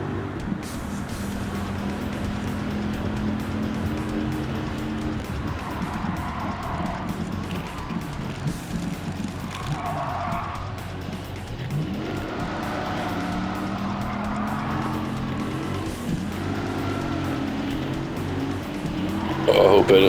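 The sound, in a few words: Viper GTS race car in video game Gran Turismo 7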